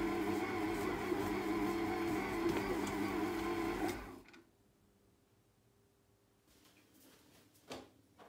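A food processor motor whirs steadily for about four seconds while kneading quiche pastry dough into a ball, then stops abruptly, leaving near-silence broken by a few faint clicks and knocks.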